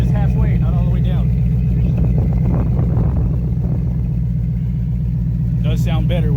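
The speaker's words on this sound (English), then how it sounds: "Romeo, give them some rev so they can hear it" A 2014 Ford F150 STX engine fitted with a ported 2018 GT intake manifold runs with a steady, deep rumble close by, while people talk over it throughout.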